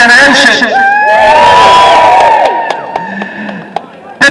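A large protest crowd cheers, whoops and claps loudly and close up, with shouts rising over the roar before it thins into scattered voices and claps.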